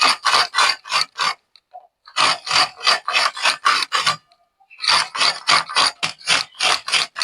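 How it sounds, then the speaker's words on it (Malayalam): Coconut scraped on a hand grater for a chutney to serve with idli, a close, loud run of rhythmic rasping strokes in three bursts separated by short pauses, with no talking. "എന്നിട്ട് തേങ്ങ ഒന്ന് ചിരവി എടുക്കാം."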